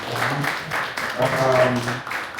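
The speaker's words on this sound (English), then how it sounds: "let's clap for Martin." Audience clapping at an investment network gathering, a steady patter of applause lasting a couple of seconds, mixed with murmuring voices and a faint tonal hum underneath.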